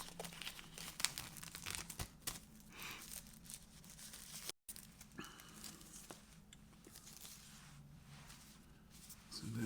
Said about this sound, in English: Try and not rip apart the old